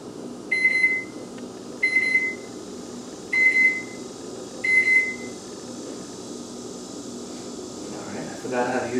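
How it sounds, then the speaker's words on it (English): Microwave oven running with a Sega Genesis game cartridge inside, its steady hum broken by four evenly spaced bright electronic beeps, then a clunk near the end. "We're going to see if this Genesis game can survive 10 seconds in the microwave."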